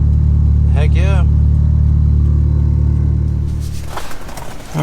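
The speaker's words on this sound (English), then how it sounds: "You guys can hear the new exhaust from the inside now too." A Mitsubishi Eclipse GSX fitted with a new exhaust rumbles from inside the cabin, a loud low engine drone that eases off near the end, with a brief voice over it.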